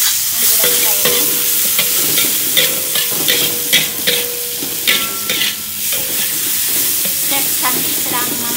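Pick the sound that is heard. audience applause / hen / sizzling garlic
sizzling garlic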